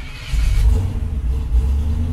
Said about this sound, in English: Now, when you start up the car